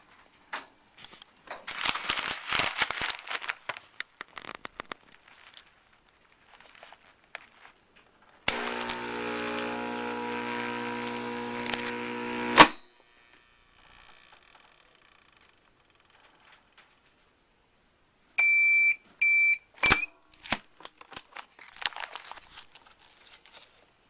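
A vacuum sealer works on a bag of beans. Bag crinkling and handling comes first, then a loud motor hum of about four seconds that stops abruptly, then later short mechanical clicks and rustles, with no talk.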